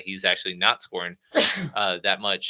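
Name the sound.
sneeze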